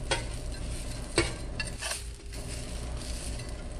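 Noodles for chicken chow mein frying on a hot griddle, a soft sizzle under scraping and tapping as two spatulas turn and separate them, close with no talking.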